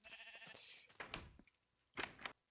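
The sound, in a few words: sheep bleating in Minecraft video game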